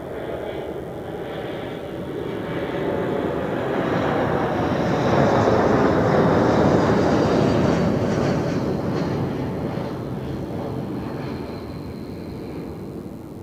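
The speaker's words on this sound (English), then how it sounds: "Austrian Airlines inbound from Vienna" An Air Baltic airliner flying for Austrian Airlines arrives at Zurich Airport from Vienna. Its jet roar swells to a broad peak midway and then fades, with no speech.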